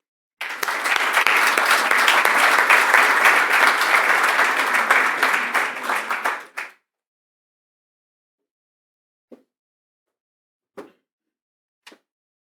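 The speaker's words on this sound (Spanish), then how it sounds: "me gustaría que recibamos con un aplauso a BCI" An audience at an investment conference breaks into loud, dense applause for about six seconds, and it cuts off abruptly. After the silence, three isolated soft knocks follow at a distance.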